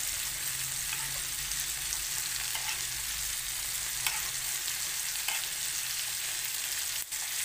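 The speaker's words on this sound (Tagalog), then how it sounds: "pinapaliguan natin yung mantika galing sa butter" Beef steak sizzles steadily in a pan of melted butter while being basted, a constant close hiss with a few faint clinks of a utensil and no talking.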